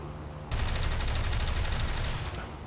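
Aircraft cannon fire from a Yakovlev fighter in a WWII flight combat video game, a loud, dense, continuous burst lasting about a second and a half over steady engine drone, with no speech.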